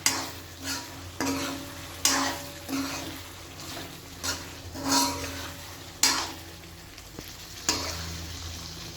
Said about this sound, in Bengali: আর একটু কষাতে হবে।